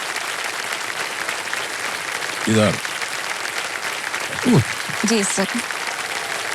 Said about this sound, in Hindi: तालियां बजते रहे इनके तुम।